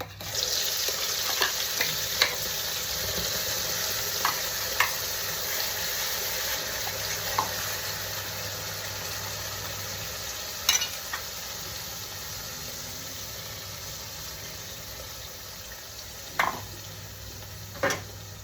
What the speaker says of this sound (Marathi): आता जिरं चांगलं झालेलं आहे आता आपण हे वाटण टाकून देऊया